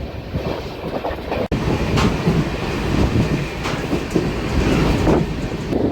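The 22618 Intercity Superfast Express rolls along the line with a steady rumbling roar and rhythmic wheel clatter, heard close and continuous with no voices.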